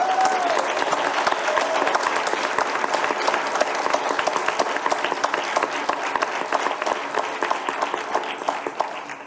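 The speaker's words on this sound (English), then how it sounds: "I'd like to offer one more round of applause for all of our recipients being here today" A full round of applause at a leadership awards ceremony honoring the recipients, with dense, sustained clapping from a large audience that holds steady throughout.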